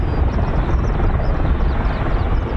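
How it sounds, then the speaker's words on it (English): A CV-22 Osprey tiltrotor flying near RAF Mildenhall gives a steady, heavy low rumble with a dense rotor drone, loud and unbroken throughout, mixed with wind. "You can still hear the CV-22 Osprey."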